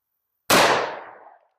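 A single loud, close pistol shot from a 1911 chambered in .357 Sig, firing a DoubleTap 77gr lead-free round into a gel block, a sharp crack with a quickly fading tail after brief silence.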